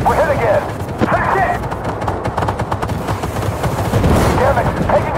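Heavy gunfire strikes a T-14 152 Armata tank in the Armored Warfare video game, a dense, loud, continuous barrage of impacts and bursts with people shouting over it throughout.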